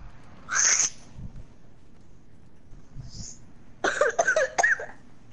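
Several harsh coughs, a single burst followed by a rapid cluster of three or four, close and fairly loud between quieter stretches.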